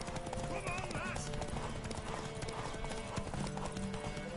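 Rapid clip-clop of horse hooves galloping with an occasional whinny in The Witcher 3: Wild Hunt, layered over busy game music and effects, steady and loud throughout.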